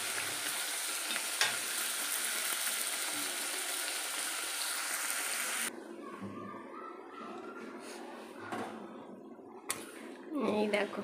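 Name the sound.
mutton being stir-fried (kosha) in a pan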